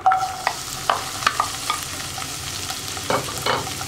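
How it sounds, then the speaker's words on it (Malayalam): Cut okra sautéing in coconut oil, with a steady sizzle under repeated, close spatula scrapes and taps in an irregular rhythm. "ഇനി വെണ്ടയ്ക്ക ഒന്ന് നന്നായിട്ട് വഴറ്റിയെടുക്കണം."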